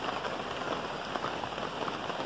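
Steady rain patters on banana leaves outdoors, a dense close hiss of drops that continues without pause and without any voices.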